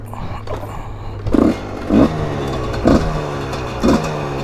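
A dirt bike at a motocross dirt park, its engine idling with a steady low drone and then blipped in four short, sharp revs about a second apart, close up.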